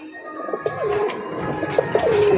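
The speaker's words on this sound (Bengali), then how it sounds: "ও একদম হাই ফ্লাই কবুতর" Giribaz high-flying pigeons give several rolling, wavering coos near the microphone, the calls rising and falling in a steady series.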